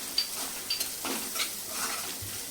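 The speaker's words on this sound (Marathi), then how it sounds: "आता आपण याच्यामध्ये पाव चमचा हळद आणि एक चमचा लाल तिखट टाकायचं आहे मिक्स करायचे" Softened onion with turmeric and red chili powder is mixed in a pan, a spoon scraping and tapping the pan in a few soft strokes over a quiet, steady sizzle.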